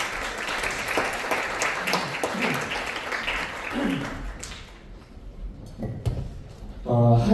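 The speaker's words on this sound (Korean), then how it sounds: "큰 박수로 모시겠습니다." Applause from a seminar audience fills a small conference room, fading out over several seconds before a brief tonal sound near the end.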